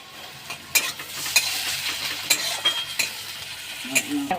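Garlic paste stirred into fried onions in a hot pan, with a steady close sizzle broken by scraping clinks of a spoon against the pan every second or so.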